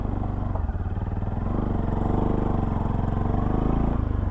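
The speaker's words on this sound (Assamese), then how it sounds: "বাইক পাৰ হৈ গ'ল" A motorbike engine chugs steadily and close by as the bike crosses a slightly broken bridge near the Kopili picnic spot at Rani, Guwahati. The engine runs at a constant drone for the whole stretch, with no talk.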